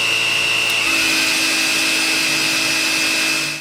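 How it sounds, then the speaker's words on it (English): A Dreame R10 cordless stick vacuum runs at a steady, fairly low volume with a high-pitched motor whine, continuous until it stops at the very end. "As for noise, the Dreame R10 is one of the quietest stick vacuums we've tested in the lab."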